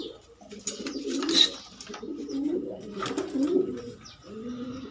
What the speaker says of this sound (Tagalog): Mailap kasi ito mga kalapatis eh.